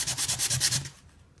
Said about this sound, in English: put on sandpaper on flat surface